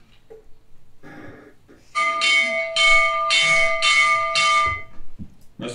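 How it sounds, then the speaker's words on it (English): A school bell rings during a church concert staging of A Christmas Carol, sounding as a sustained bright metallic tone for about three seconds after some faint quieter sounds. "A school bell rings to signify the beginning of the Christmas recess."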